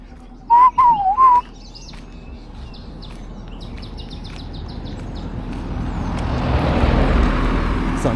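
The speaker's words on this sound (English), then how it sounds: "Some bronze sunbirds here." Bronze sunbirds give a few short, loud whistled calls up close at the start, then a run of thin faint chirps, while passing road traffic swells into a broad roar in a Kenyan bird area.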